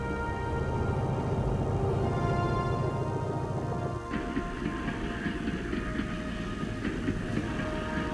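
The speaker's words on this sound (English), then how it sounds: "trains loaded with troops, tanks, and field guns could move with no risk from attack" A North Vietnamese train rolls steadily along the rails with a continuous loud rumble, then clickety-clack wheel beats and rattling cars take over partway through, with no voices.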